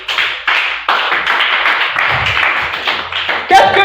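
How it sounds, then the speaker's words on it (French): A church congregation claps during a worship service. Separate bursts of hand clapping come close and loud, rising and falling, with voices mixed in and a sharper sound near the end. "Applaudissez le Seigneur."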